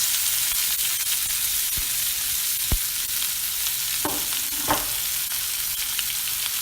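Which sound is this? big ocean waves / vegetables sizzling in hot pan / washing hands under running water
vegetables sizzling in hot pan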